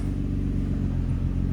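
A Nissan 350Z engine with its exhaust cutout valve shut gives a muffled, steady low rumble through the exhaust, close and continuous for a brief moment.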